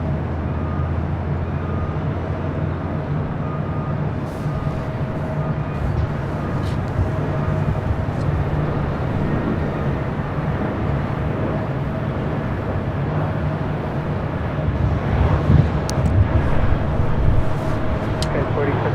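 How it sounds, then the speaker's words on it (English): A Turkish Airlines Dreamliner at LAX, heading for runway 25 right, gives a steady, loud jet roar. The roar stays broad and constant throughout and swells slightly near the end. "it's a Turkish Dreamliner heading to 25 right."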